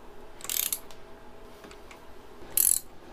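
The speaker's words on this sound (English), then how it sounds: "so I'm gonna go ahead and tighten up these bolts" A ratchet tightens bolts on the front end of a cafe racer motorcycle in two short, sharp bursts of clicking, separated by a quiet pause.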